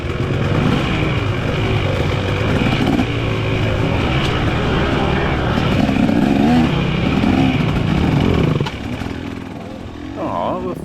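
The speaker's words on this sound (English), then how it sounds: "two-stroke stalled." A two-stroke dirt bike engine runs with a loud, rough roar on a track, then cuts out abruptly near the end, leaving quieter background sound.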